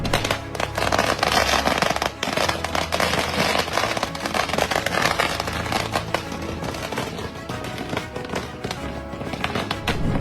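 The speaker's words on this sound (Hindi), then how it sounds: "वहीं जयपुर शहीद स्मारक पर युवाओं ने आतिशबाजी कर कोर्ट के फैसले का जश्न मनाया।" Youths set off fireworks at the Shaheed Smarak memorial in Jaipur to celebrate a court verdict, a dense, continuous barrage of crackling bursts and pops with crowd noise underneath.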